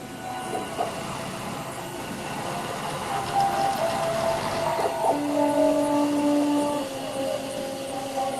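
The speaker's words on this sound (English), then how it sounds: "this little printer, this was my first Prusa printer" A small Prusa 3D printer hums steadily at close range, with whining stepper-motor tones that shift in pitch as it moves, over constant mechanical noise.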